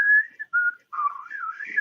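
A person whistling a short wavering melody, a few breathy pitched notes close to the microphone, clear and alone.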